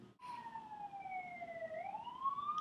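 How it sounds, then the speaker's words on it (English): A siren wails steadily, its pitch sliding slowly down and then rising again, fairly close and loud over a low rumble of traffic. "More sirens, it's a busy day."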